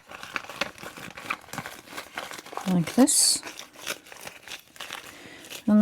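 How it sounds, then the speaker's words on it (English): Paper being crumpled by hand to make a momigami junk journal, crisp crinkling that swells in the middle, heard close under a person talking. "So I'm going to crumple it this way,"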